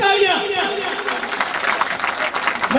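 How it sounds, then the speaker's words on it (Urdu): Clapping from an audience at a gathering rises under someone speaking through amplification, brief and fairly loud applause mixed with his voice. "ملک اعتبار کے لیے بھرپور تالیاں"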